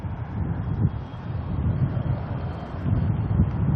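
Strong wind buffets the microphone at Auckland airport, a loud, continuous low rumble and roar that rises in gusts and never lets up.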